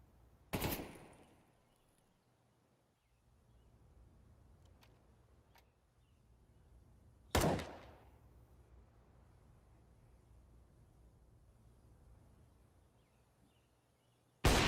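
An AK rifle fires in a United21 esports match, with two loud, isolated gunshots several seconds apart, a third at the very end, and only faint background noise between them.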